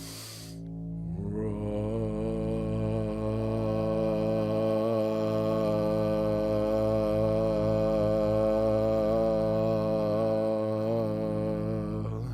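Several voices hold a long, steady sung "Ra" tone together, rich and harmonic, sustained evenly for about eleven seconds after a brief breath.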